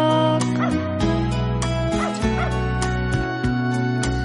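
A dog barks and whimpers in short, repeated yips over steady music in a children's audio story track.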